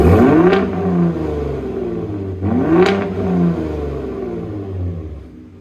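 Steady exhaust rumble from a 2021 third-generation Ford Raptor pickup in normal drive mode, a deep low drone swelling twice as the engine revs briefly, moderately loud and close, no voices.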